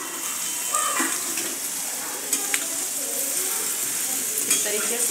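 Okra sizzles and fries in spice masala inside a small kadhai, a steady crackling hiss with occasional sharp stirring clicks, while a voice speaks briefly over it.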